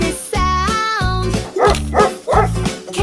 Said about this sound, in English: It's a dog. A dog says woof.